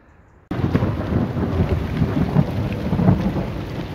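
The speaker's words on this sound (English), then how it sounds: "Got out with a crack of thunder." Sudden crack of thunder over an allotment breaking into a long, deep rumble, with rain pattering steadily throughout.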